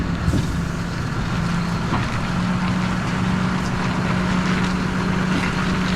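An old Case farm tractor rolls off a trailer, a steady low engine rumble with a sustained drone throughout and faint clanks near the start, heard close and continuous.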